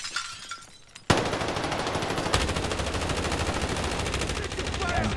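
Enemy gunfire erupts in a video game after a short quiet stretch, a loud sustained burst of rapid automatic shots hammering continuously to the end.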